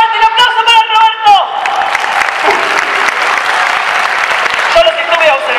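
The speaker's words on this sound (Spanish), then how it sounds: "¡Fuerte el aplauso para Roberto!" A circus crowd applauds and cheers for Roberto, loud clapping with whoops rising over a speaking voice that fades out, then sustained applause with music-like tones returning near the end.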